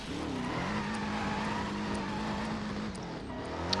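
A car drifts along a wall in the video game Driver San Francisco, its engine holding a steady high drone with tyre noise, fairly quiet and continuous throughout.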